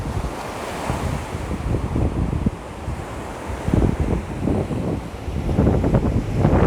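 Sea surf rolls in at a Lithuanian shore, steady wind rushing across the microphone as swelling waves break and wash in, growing louder toward the end.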